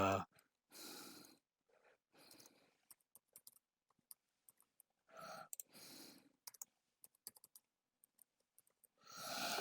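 A password is typed on a computer keyboard. Scattered quiet key clicks come in short runs between louder breathy bursts of noise, close and dry.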